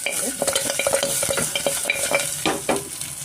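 Mutton leg soup ingredients fry in oil while a utensil stirs them, giving steady close sizzling broken by repeated scraping clatters and knocks against the pan.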